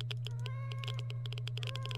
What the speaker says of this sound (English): Hi, cat.